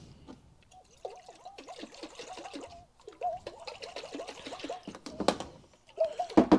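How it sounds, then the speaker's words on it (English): A capped container holding a roughly half-and-half mix of biodiesel and water is shaken by hand, giving rhythmic sloshing and gurgling pulses in bursts with brief pauses, fairly quiet and close. "About 50-50 water biodiesel mix. And we'll cap it up. And we'll just shake it up."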